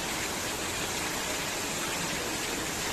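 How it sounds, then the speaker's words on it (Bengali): Heavy rainwater pours down a flight of stairs in Bengaluru, a loud, continuous broadband rush of running water with no breaks. "সিঁড়ি বেয়ে কী পরিমাণে জল নামছে, বৃষ্টির জল।"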